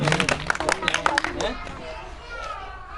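Schoolchildren at a primary school quiz competition applaud the winning girls' team with a burst of dense clapping and crowd babble that fades out after about a second and a half, leaving quieter chatter.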